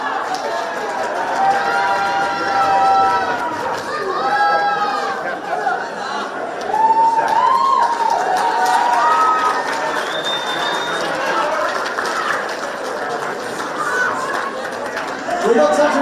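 Large crowd chatter fills an outdoor junior grand final presentation for an under-16 football match, a steady murmur of many voices with occasional louder calls, broad and continuous throughout.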